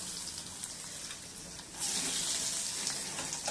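Vadagam frying in hot oil crackles with a soft constant sizzle that suddenly grows into a louder, brighter rush of bubbling partway through, close by with no talking.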